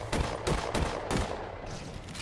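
Rapid bursts of gunfire from a gun in Halo 4, with four or five loud, evenly spaced shots close together and a fading tail; no speech.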